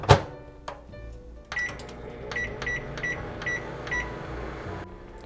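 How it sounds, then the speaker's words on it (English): A microwave oven running with white rice inside, a steady low hum under a series of sharp electronic beeps as the timer is keyed in, with a thunk near the start. "we'll be putting our white rice in the microwave and setting that for 3 minutes"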